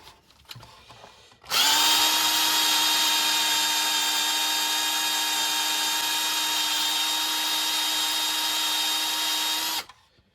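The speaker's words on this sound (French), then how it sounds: "Évidemment, il faut un bon forêt métal, sinon c'est même pas la peine." An 8 mm metal drill bit bores into a hard screw during disassembly of a Mercedes 500 SL R107 with an M117 engine, a loud, steady high-pitched whine starting abruptly and running about eight seconds before stopping.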